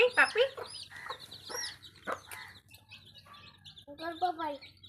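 Small chicks peep and chirp in short, scattered high bursts close by, with a quiet voice speaking now and then between the calls.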